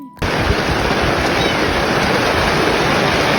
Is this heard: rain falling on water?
yes